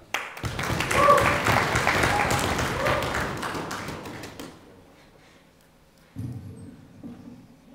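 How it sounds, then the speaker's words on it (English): A debate audience at a world universities debating championship breaks into loud applause and cheering that swells, then slowly fades, followed by a few thumps and shuffling sounds. "nothing like having a raucous crowd on your side in a UK debate"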